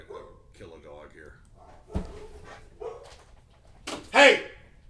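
A dog lets out a few scattered barks and yips, ending in one louder sharp bark, mixed in with someone talking and scolding it nearby.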